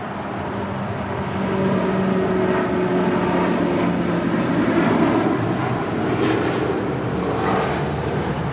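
El Al 787-9 Dreamliner heavy jet taking off from LAX, a loud sustained engine roar that builds and holds steady with a rumbling low end, heard from nearby without any talk.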